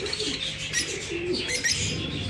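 A single pet parrot in its cage gives short, shrill calls and chirps, fairly quiet and close, with brief rustling between the bursts.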